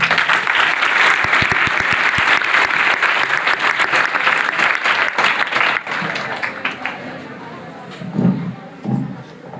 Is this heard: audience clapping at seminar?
yes